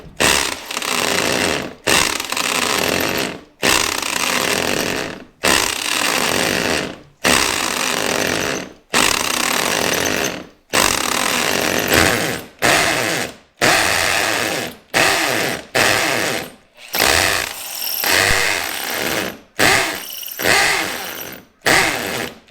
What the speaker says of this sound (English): got the big drill out. Got it on the hammer setting.